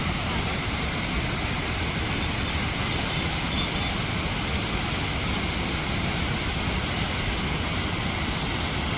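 Floodwater from heavy flooding rushes through a stream in Pimpalwandi village, Junnar taluka, near Pune, making a steady, loud, unbroken roar that fills the whole scene.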